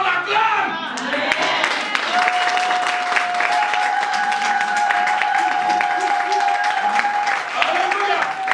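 Church congregation applauding and cheering during a French-language service, a dense, sustained wash of clapping that fills the room, with voices and a steady tone running beneath it.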